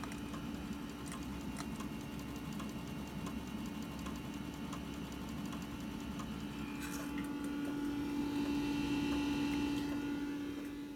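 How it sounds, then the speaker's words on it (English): A floppy disk drive in a Windows 98 PC works steadily, giving a continuous low mechanical hum with faint ticking and seeking clicks throughout, slightly louder toward the end. "And that floppy drive is working away."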